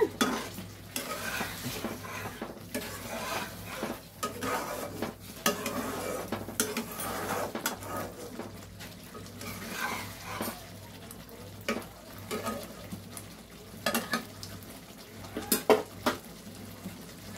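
Spice paste sautéing in a pan for a Bengali lentil-fritter curry, a continuous sizzle broken by repeated scraping and clinking strokes of a spoon stirring against the pan, close and fairly steady.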